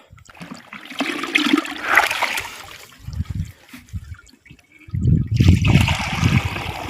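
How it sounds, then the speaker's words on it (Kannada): Water poured into a 20-litre plastic can on a farm, arriving in gurgling, splashing bursts separated by quieter gaps, close and loud, with a longer heavy pour near the end. "ಈಗ ಇನ್ನೂ ಸ್ವಲ್ಪ ನೀರು ತಗೊಂಡು ಹಾಕೋಣ ಒಳಗೆ"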